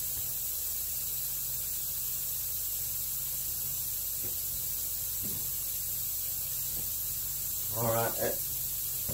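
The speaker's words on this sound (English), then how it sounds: "once you get to spraying, you need to get at it" A spray gun hisses steadily as paint goes onto a black Suzuki Intruder motorcycle panel, a continuous close airy spray with a brief squeal and a short burst of voice near the end.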